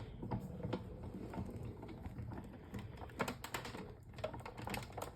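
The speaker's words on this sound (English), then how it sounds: "when I push this through my Big Shot, I'm going to stop about right here" Paper card is cranked through a Big Shot die-cutting machine, giving a continuous, dense patter of soft mechanical clicks and rolling noise up close, with no speech.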